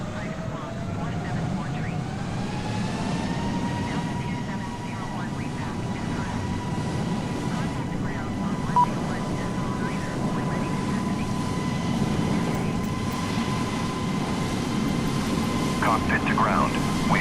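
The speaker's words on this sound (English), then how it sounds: "Cockpit to ground. We have a good engine start." A Boeing 717 engine spooling up in Microsoft Flight Simulator 2020, a steady rising whine settling into a constant jet hum with rumble beneath, continuous and moderately loud while someone talks over it.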